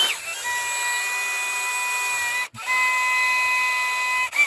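A drill slowly spins an engine valve against its seat with lapping compound during work on a pulling tractor, making a steady high whining hum that breaks off briefly twice and resumes.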